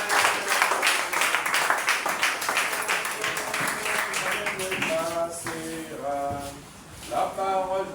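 A church congregation applauds in a sustained burst of clapping, and a sung melody rises over the clapping toward the end.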